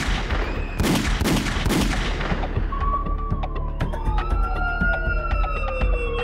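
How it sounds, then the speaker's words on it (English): Several sharp, loud shots crack close together early on in a rural community near Los Angeles, followed by a rising and falling wail like a siren with scattered sharp clicks over a constant low rumble. "the peaceful quiet was shattered by the sound of gunfire"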